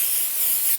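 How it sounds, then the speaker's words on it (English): A single close burst of hairspray misted onto a wig, a bright continuous hiss lasting under a second before cutting off abruptly. "Oh, I'm gonna add some hairspray."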